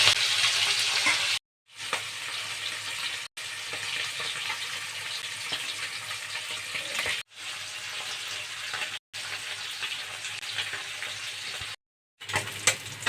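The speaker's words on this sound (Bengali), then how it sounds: "আমি আরেক পিঠও এমন লাল লাল করে ভেজে নেব।" Continuous loud sizzling of Dhela sea fish frying in hot oil, broken by several brief silent cuts, with no voices.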